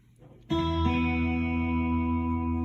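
After a short quiet lead-in, an electric guitar chord rings out through a guitar pedal's Vox amp setting with tremolo, strong and sustained, with a second strum soon after.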